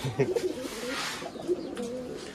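Pigeons coo in low, repeated rounded calls close by, with a soft airy background hiss, near a small quail-keeping shed.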